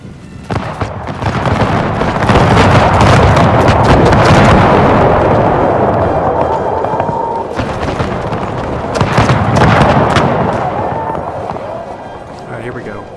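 Musket volleys crackle in the video game Total War: Empire with a mod, with dense rolling bursts of gunfire swelling loudly, easing, then returning; someone talks over the battle noise.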